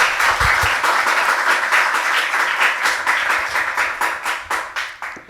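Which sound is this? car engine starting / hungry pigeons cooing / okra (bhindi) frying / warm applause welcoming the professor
warm applause welcoming the professor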